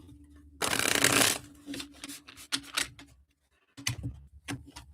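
A deck of reading cards is shuffled close by, a loud riffling burst followed by scattered taps, slides and softer shuffling rustles, with a short silent gap partway through.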